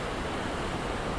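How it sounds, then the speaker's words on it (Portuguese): Fast river water fed by Andes snowmelt rushes in a dense, steady roar, close and unbroken, with no voices. "Essa água toda vem do degelo, da neve lá na Cordilheira dos Andes, que está perto daqui"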